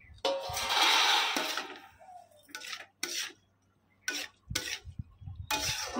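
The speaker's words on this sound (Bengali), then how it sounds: "এবার মশলাগুলো একটু ভালো করে ভাজতে হবে।" Chopped ginger and spices stirred in a pan for chili chicken, with intermittent scraping and clinking bursts of a utensil against the metal and short quiet gaps between strokes.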